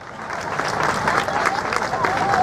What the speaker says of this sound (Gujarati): તાળીઓ સાથે આભાર વ્યક્ત કરીએ